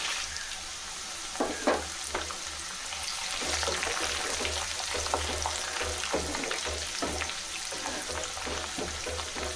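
Dried red chillies frying in hot oil for Tamil puli kulambu, a close crackling sizzle with scattered pops and occasional stirring clicks, no voices.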